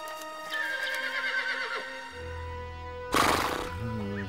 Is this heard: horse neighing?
yes